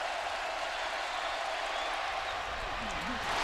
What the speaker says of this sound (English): Crowd has come alive.